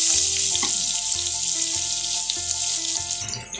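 Chopped onions going into hot oil with asafoetida and finely cut green chilies for a mushroom curry, a loud, dense, steady sizzle hissing throughout with faint knocks beneath, easing slightly at the end.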